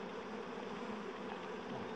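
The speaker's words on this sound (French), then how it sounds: "Ah, ça y est, je vois un essaim." A honey bee swarm hanging in a tree produces a dense, continuous buzzing hum, soft and steady, heard without any speech.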